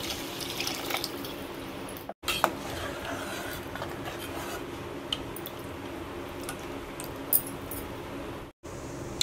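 Hot water mixed with ground masala being poured into a pan of cooked mutton curry, a soft, close splashing and trickling with scattered drips, fairly quiet and without talk.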